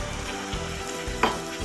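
Tomato and onion paste with green chilli fries in a pan, a steady close sizzle with soft stirring scrapes and one brief clink.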